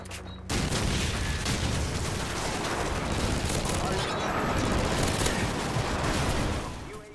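P90 submachine gun in Call of Duty 4: Modern Warfare firing one long continuous automatic burst, loud and steady for several seconds before it tails off.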